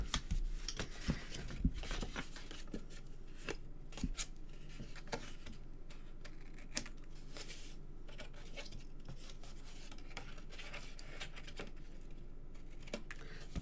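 Scissors snip flaps off card stock while a note-card gift box is made: a steady run of close, quiet cuts and crisp snips with small paper rustles, and no talking.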